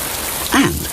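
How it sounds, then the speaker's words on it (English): Cartoon rain falls in a steady, close hiss of drops, with a short vocal sound over it partway through the brief moment. "I wish it would stop raining."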